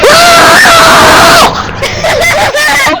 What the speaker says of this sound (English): let this man scream into the microphone one last time